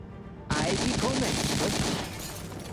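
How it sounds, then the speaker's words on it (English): A sudden burst of rapid gunfire breaks out in the tactical video game Silent Storm, a loud, dense volley lasting about a second and a half before it tails off into a fainter rumble, with no talking. "that was horrible shooting"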